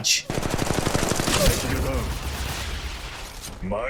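Rapid automatic gunfire from Mirage in Apex Legends Mobile, a fast close burst of shots lasting about a second, followed by lingering noisy echoes and game sounds.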